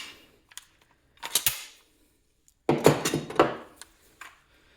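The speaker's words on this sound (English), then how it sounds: "Go ahead and take out our bolt." A Japanese Type 38 rifle's bolt being worked and drawn out, heard as a few sharp metallic clacks and slides in two clusters separated by quiet, close and fairly loud.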